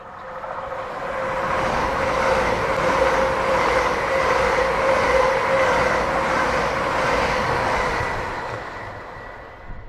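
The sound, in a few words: express passenger train 1S17 passing through Alnmouth station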